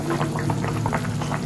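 Rohu fish curry gravy boiling in a pan, a close, continuous bubbling with soft gurgles and small liquid pops.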